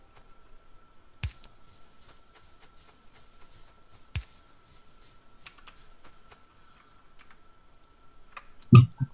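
Sparse clicks of a computer mouse or keys while placing power lines in the Factorio video game, a few sharp isolated taps over quiet background, ending with a louder thump.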